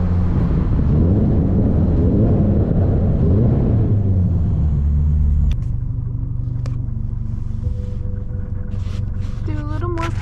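A car driving under a highway bridge, with a loud, steady engine and road rumble that drops in tone midway, followed by a few sharp, brief exhaust pops near the end.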